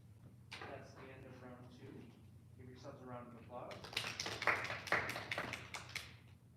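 Grade 8 students clap for themselves at a school spelling bee, a burst of scattered, fairly close handclaps that swells and then thins out after a spell of talking.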